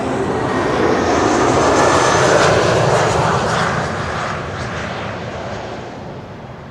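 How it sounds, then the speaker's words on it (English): A former BA airliner, now flown by German Airways for KLM, roars in on landing at Schiphol after a flight from Luxembourg, a loud, broad engine rumble that swells and then slowly fades. "A former BA, now German Airways, flying on behalf of KLM, arriving from Luxembourg."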